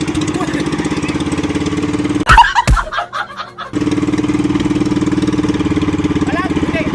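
A small fishing boat engine with a fault idles in a steady, loud chugging rumble, cuts out briefly to a few knocks and sputters, then resumes its even idle; voices talk over it.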